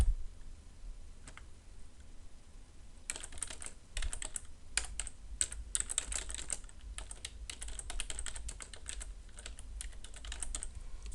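Rapid close typing on a computer keyboard, bursts of light clicking keystrokes after a quiet start, with short pauses between runs and no talking.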